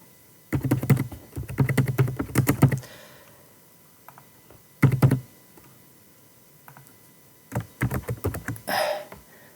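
Bursts of close, crisp computer-keyboard typing with short pauses between runs, heard while setting up a TP-Link router's network settings. No voices.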